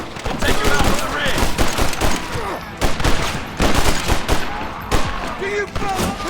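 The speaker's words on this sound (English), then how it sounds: "Marston, use that Gatling gun!" A Gatling gun firing in the Western video game Red Dead Redemption, long loud rattling bursts of rapid shots with brief gaps between them, close and dominant, with voices shouting over the gunfire.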